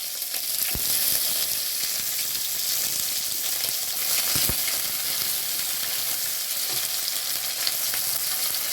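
Onions hit hot oil with a five-spice tempering, producing a loud, dense, unbroken sizzle and crackle close by, with an occasional faint utensil tap and no voices.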